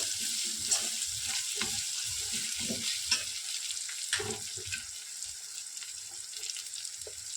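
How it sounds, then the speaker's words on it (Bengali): Spices frying with ginger, garlic and onion in a pan, a low continuous sizzle with intermittent stirring scrapes and knocks, heard up close without speech. "আদা রসুনটা ভালো করে কষে দিয়েছি পেঁয়াজের মধ্যে এবার আমি মশলাগুলো দিয়ে দেবো"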